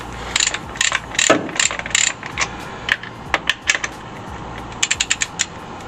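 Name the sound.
socket ratchet undoing 13 mm bolt on Ford Fiesta torque mount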